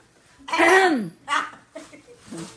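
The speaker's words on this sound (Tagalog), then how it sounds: "Inuubo ako kasi." A single harsh cough bursts out, followed by a couple of smaller throat sounds, close by with no speech.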